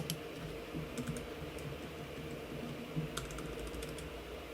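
Rapid, steady typing on a computer keyboard, close and fairly quiet, with a few louder clacks mixed into the continuous key tapping and no talking.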